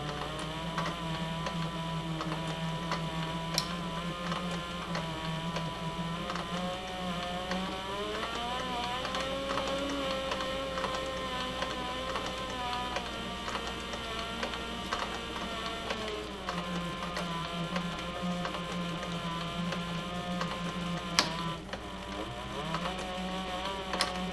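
A sewing machine stitching binding tape onto a military-issue backpack while a replacement zipper coil is sewn in, running as a steady, continuous mechanical hum and whir throughout, close and moderately loud, with no voices.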